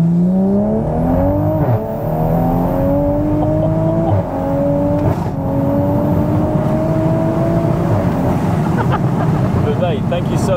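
A tuned 510 BHP Toyota MK5 Supra accelerates hard, its engine note climbing through rising revs in a loud, sustained pull heard from inside the car, with one brief dip as it shifts gear.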